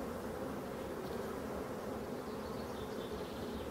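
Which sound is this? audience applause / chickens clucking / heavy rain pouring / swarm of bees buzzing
swarm of bees buzzing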